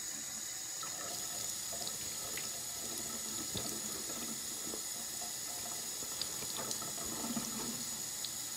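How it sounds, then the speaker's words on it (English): Tap water running steadily into a sink as a blood-stained cloth is rinsed out, a soft continuous splashing hiss with faint trickles and drips, close but quiet. "I'm gonna rinse it now"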